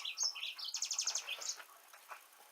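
A pet bird chirps loudly and rapidly indoors, a quick series of bright tweets and trills with short gaps, close and alone with no talking.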